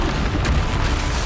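Bombarda explosion spell cast in Hogwarts Legacy: a dense, booming blast with a sharp burst near the start and rumbling decay, loud and alone with no talk.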